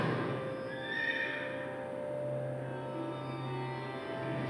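A lone horse whinnies faintly in the distance, one shrill wavering call followed by a steady low hum, with no talk.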